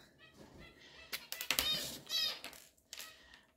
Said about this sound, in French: Non, je vais faire au cutter finalement.